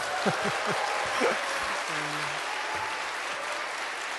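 Congregation applause in a church during a new-believers' open worship service at Onnuri Church: a steady, moderate wash of clapping fills the whole stretch, with a few voices murmuring underneath.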